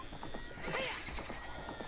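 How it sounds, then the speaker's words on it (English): In the video game Ocarina of Time, a horse gives a short whinny over quick, rhythmic hoofbeat clip-clops, faint and close, with game sounds around it. "Oh, holy shit, you got a horse!"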